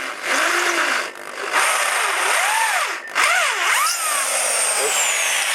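Electric drill boring slowly through steel for a fruit cage on an allotment, its motor whining in rising and falling sweeps as the bit bites and eases off, loud and close, with brief pauses in the pitch.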